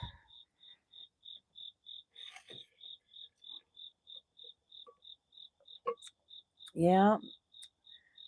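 Crickets chirp in a steady, regular pulse at sunrise, faint and continuous, while a person briefly speaks and a short croaking or vocal sound rises near the end.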